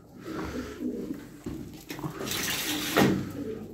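Pigeons in a coop give soft, low cooing under a hiss of background noise, with a louder burst of flapping or scuffling near the end.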